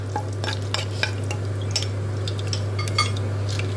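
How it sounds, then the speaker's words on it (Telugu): Onions frying in a pan for curry are stirred with a utensil, giving repeated scraping clinks over a steady low hum and soft background sizzle, close by, with no voices. "ఉల్లిపాయ మాత్రం గోల్డెన్ బ్రౌన్ కలర్ వచ్చేదాకా బాగా వేయించుకోండి."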